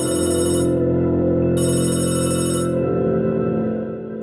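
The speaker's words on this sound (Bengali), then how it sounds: "তাইজুল তার সবচেয়ে কাছের বন্ধু সাগরকে ফোন করলো।" A cartoon mobile phone rings with a bright electronic ringtone in pulsing bursts, loud and close, alone without speech, fading slightly at the end.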